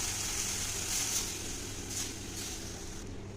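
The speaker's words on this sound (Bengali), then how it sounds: "তো দেখো জলটা দিয়ে দিচ্ছি ওপর থেকে" Water poured into a hot pan of fish cooking in mustard paste, a soft steady sizzle and hiss with a few gentle surges, fairly quiet and without talk.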